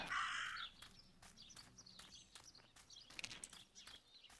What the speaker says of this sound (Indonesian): Kok banyak gagak?